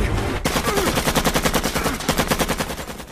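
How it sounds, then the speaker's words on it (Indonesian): Rapid automatic gunfire erupts in an Iraq war film firefight, a loud, close burst of evenly spaced shots that starts abruptly and rattles on continuously. "Kontak senjata pun kembali terjadi"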